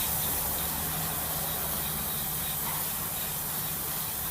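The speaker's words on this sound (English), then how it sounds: "we're using our mass airflow cleaner" Mass airflow sensor cleaner sprays in a steady continuous hiss over a workbench, held for the full stretch at close range with no pauses.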